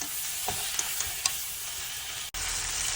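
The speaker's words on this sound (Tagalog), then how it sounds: "Ayan, haluin lang natin yan." A monggo (mung bean) dish with shrimp being stirred in a cooking pan: a steady sizzle with a few soft scraping strokes of the spoon, all fairly quiet and close.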